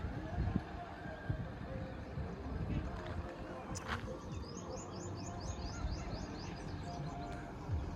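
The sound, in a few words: birds chirping at Navlakha temple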